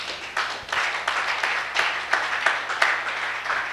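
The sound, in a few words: congregation applauding during a sermon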